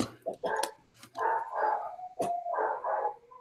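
Small dogs in a home bark and yip in several short bursts, fairly close, with a whimpering, whiny tone between barks.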